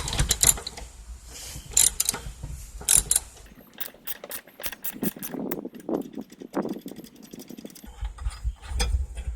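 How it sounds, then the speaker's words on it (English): A 5/8 socket ratchet working the blade bolt off a Murray riding mower, close-up metallic ratcheting clicks in quick runs with clanks and scraping between. "This is a 5/8 socket to snatch this blade off."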